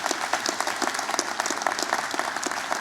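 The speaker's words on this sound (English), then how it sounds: "A big round of applause for our new doctor." Graduation ceremony audience at RMIT Vietnam's Hanoi campus gives a round of applause for a new honorary doctor, a sustained crowd of many hands clapping at moderate loudness with no speech.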